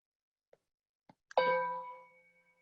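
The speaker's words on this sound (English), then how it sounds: "I'm going to ring the bell." A meditation bell is struck once to open a mindfulness pause, after a few faint taps. It gives a clear bright ring with sustained harmonic tones that fade slowly over about a second, heard alone in a quiet room.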